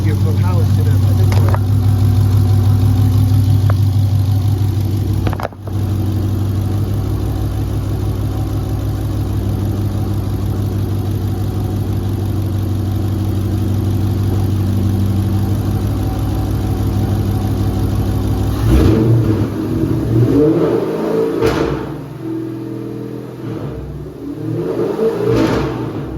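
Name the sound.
broken car engine idling and revving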